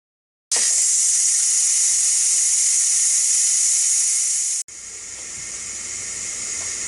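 A pressure cooker valve holding mac and cheese releases a loud, steady jet of hissing steam that starts abruptly, cuts out for a split second, then resumes slightly quieter.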